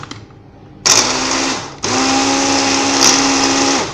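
A kitchen blender grinds quince pieces for quince paste, a loud whirring motor that runs, stops briefly, then starts again and holds a steady drone to the end, with no talking.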